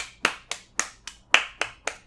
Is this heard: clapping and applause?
yes